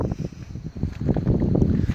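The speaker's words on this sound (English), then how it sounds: "Sorry if it's a little windy." Low rumbling wind buffets the microphone throughout, a steady muffled roar that swells louder toward the end, with no voices.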